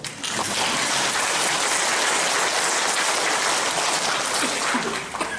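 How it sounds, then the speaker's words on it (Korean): A lecture audience at an education office talk applauds loudly and steadily, dense clapping filling the space for several seconds without pause. "박수 한번 주셔야죠."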